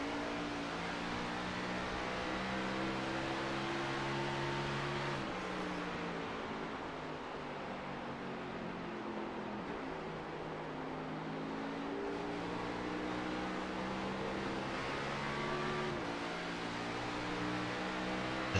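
A race car engine drones steadily in a NASCAR Xfinity Series sim race at New Hampshire, its harmonic pitch climbing and dropping through gear shifts at a continuous, even loudness with no talking.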